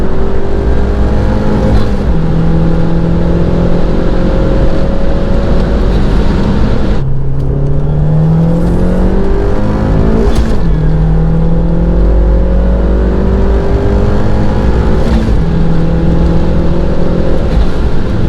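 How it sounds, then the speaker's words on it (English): A turbocharged Abarth 500 accelerates hard through second, third and fourth gear. The loud engine rises in pitch through each gear, and brief dips mark the shifts. "We got some nice second to fourth gear rips to show you guys the acceleration and everything."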